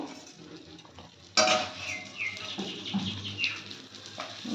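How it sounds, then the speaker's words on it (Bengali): Lentils are tipped into a little hot oil in a wok, setting off a sudden sizzle along with stirring scrapes and utensil clinks. Nearby bird chirps sound over the frying. "তেলের মধ্যে ডালগুলো দিয়ে দেবো,"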